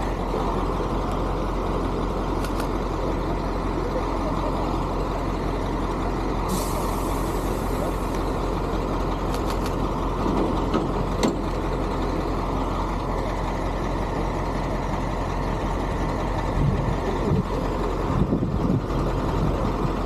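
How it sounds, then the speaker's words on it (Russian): KamAZ military truck towing an artillery gun in a parade, a steady heavy diesel rumble rolling past with sharp air-brake hisses, faint distant voices over the continuous vehicle noise. "продолжает движение автомобиля."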